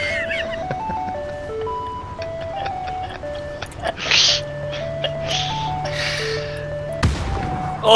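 A tinkling ice cream truck jingle plays in PUBG, a steady melodic tune with a low engine hum beneath, punctuated by a few brief bursts and thumps.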